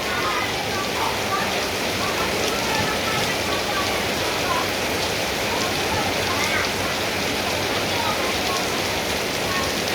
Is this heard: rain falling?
yes